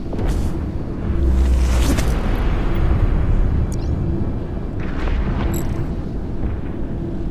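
In the EVE Echoes space game, battleship weapons fire and explosions hit a Chimera carrier, making a loud, continuous rumbling roar with heavy booming low end and sharper bursts near the start and middle.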